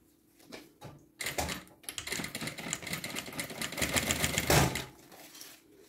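Sewing machine topstitching a seam on a zippered toiletry pouch, its needle running in a steady rapid chatter after a few short starts, growing louder toward the end and then easing off, with no voices.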